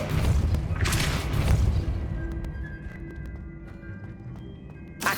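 A Depulso spell is cast in Hogwarts Legacy: a loud, broad whooshing blast swells over the first two seconds and fades into a quieter ringing tail, then a short sharp burst follows at the end.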